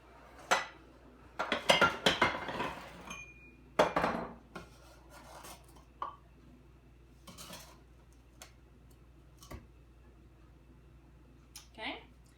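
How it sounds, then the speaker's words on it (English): Sugar being stirred into melted chocolate for hot fudge sauce, with scraping and clinking of a utensil against a pot in irregular bursts, plus short pauses between strokes. "we're just going to add a cup of sugar to that chocolate mixture, and you're going to stir that really good"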